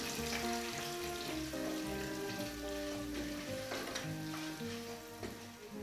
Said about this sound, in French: L'huile est chaude, nous allons y verser le riz que nous allons remuer